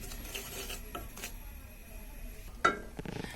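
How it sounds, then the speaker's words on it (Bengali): Semolina is stirred constantly while it roasts in a pan for suji halwa, giving faint soft scraping and rubbing with a few sharper utensil knocks against the pan, quiet and close. "এটাকে ভালোভাবে টেলে নিই, অনবরত নাড়াচাড়া করতে হবে।"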